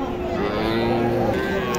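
A cow gives a long, low, steady moo close by at a busy cattle market in Dhamoirhat, Naogaon, with faint crowd voices murmuring underneath.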